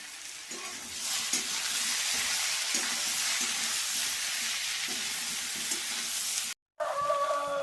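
Masala with turmeric, chilli powder, cumin-coriander powder and salt sautés in a pan, a loud, steady sizzle with periodic stirring scrapes, briefly cut off near the end before resuming.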